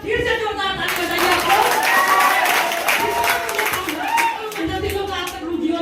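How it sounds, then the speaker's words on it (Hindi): An audience at a teacher's day celebration in an institute claps loudly and steadily for a teacher, with dense continuous applause and a few faint voices mixed in. "सर के लिए एक बार फिर से जोरदार ताली बजाइए।"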